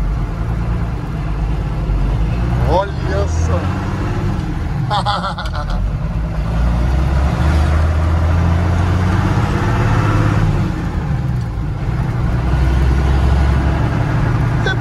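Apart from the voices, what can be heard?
Ford F700 truck converted to pickup, driving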